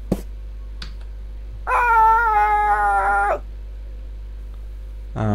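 A dog barking in the video game PaperCut: one drawn-out, tonal bark-like yelp lasting over a second, loud and clear, framed by a few sharp clicks in otherwise quiet surroundings.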